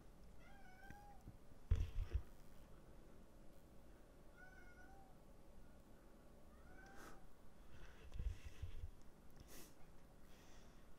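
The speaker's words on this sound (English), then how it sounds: "I don't know if you can hear my cat yelling at me, but she definitely is." A domestic cat meows and yowls repeatedly, several rising and falling calls spread across the stretch at moderate distance over a steady background hum, with a couple of short snorting bursts near the microphone.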